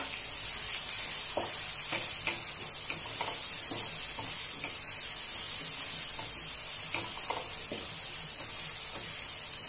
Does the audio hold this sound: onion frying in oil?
yes